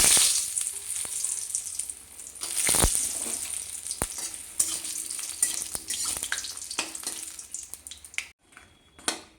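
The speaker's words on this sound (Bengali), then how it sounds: "এবার আমি বড়িগুলো ভেজে নেব" Bori, small lentil dumplings, fry in hot oil in a wok with a loud, close, continuous sizzle. Occasional clicks of stirring break through before the crackle drops off sharply at the end.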